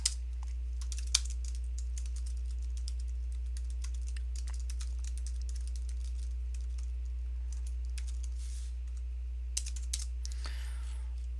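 Rapid clacking of keys on a computer keyboard while code is typed, a steady run of light taps over a constant low hum, with a few sharper key strikes and a brief shuffle near the end.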